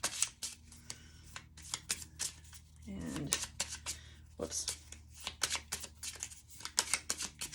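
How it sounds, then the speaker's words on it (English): Rapid riffling and flicking of tarot cards in repeated bursts, close and crisp, with a brief voice speaking partway through. "Cards are kind of hard to shuffle."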